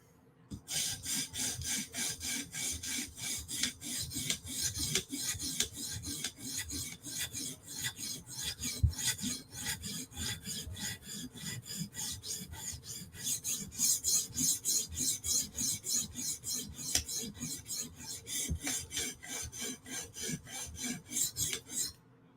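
Steel blade stroked across a rough grit sharpening stone, a rhythmic series of close, raspy scraping passes repeating steadily throughout with short gaps between strokes and no talking.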